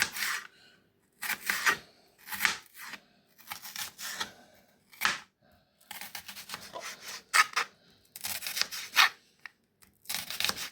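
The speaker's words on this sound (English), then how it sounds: "So it's gonna cut up some julienne slices." Knife cutting a whole onion with its root still on into julienne slices, repeated crisp chopping and slicing strokes in irregular bursts with short pauses, close and fairly clear, no talking.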